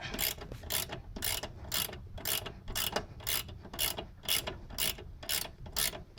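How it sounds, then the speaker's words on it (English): Ratchet tightening a lower control arm bolt on a 1997 Nissan Maxima, a steady series of about a dozen evenly spaced clicking strokes, close and clear with no speech. "you want to tighten it quite a bit before you torque it"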